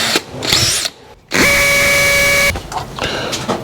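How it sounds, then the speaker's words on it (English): A cordless power screwdriver drives a fixing screw while a weatherproof isolating switch is installed, a short whir, a brief pause, then a loud, steady high-pitched whine that tapers off into handling noise. "I always use my screwdriver to let me know when I've got a good hit"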